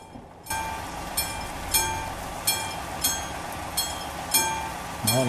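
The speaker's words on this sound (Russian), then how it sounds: "Сейчас поезд пропустим." A diesel train rolls past a rail crossing in Euro Truck Simulator 2 on a Siberian Russia map, its wheels giving regular loud clacks about every three quarters of a second over a steady engine drone.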